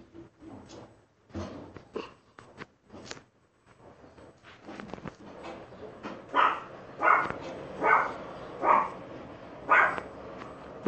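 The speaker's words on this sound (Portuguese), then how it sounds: "Mano, os lobos estão latindo muito estranho." Wolves in a video game giving a string of sharp, dog-like barks, sparse and scattered at first, then about half a dozen loud, evenly spaced barks close by.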